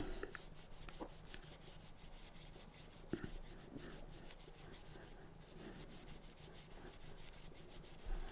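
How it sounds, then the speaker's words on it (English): Pink Cape Cod polishing cloth rubbed against an e-cig, a close, quiet, continuous rhythm of short rubbing strokes with occasional small taps. "I'm just going to start off then by just basically sort of polishing away with the pink Cape Cod polishing cloth."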